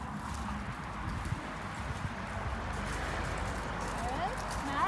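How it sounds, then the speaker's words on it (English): A horse lopes in a round pen, its soft rhythmic hoofbeats on the ground under steady background noise, with a faint voice in the background. "your horse is getting some lovely repetitions, loping beautifully"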